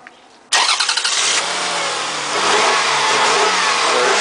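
A Toyota Harrier's engine cranks and fires after a brief quiet moment, then revs in a few quick bursts before settling into a smooth, steady running hum, close and loud with no voices.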